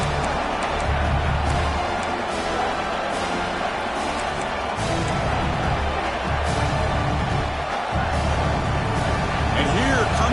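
A football stadium crowd at an Iowa game roars steadily during a red zone defensive stand, a dense sustained wall of cheering and noise with announcers talking over it.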